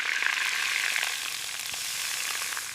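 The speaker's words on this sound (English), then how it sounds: "The sizzle tells me it's cooking perfectly." Steady, loud sizzling of food frying in a hot pan at a snowy winter campsite, a continuous crackling hiss with small pops throughout.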